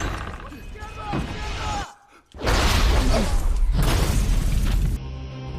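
An explosion goes off as a team enters a house in an action film, a sudden loud roaring blast after a brief hush, following voices and tense movie sound.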